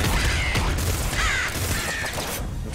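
Harsh crow-like cawing calls from birds in the video game Nuclear Throne cut repeatedly through a dense, loud, steady game soundscape of rumbling noise.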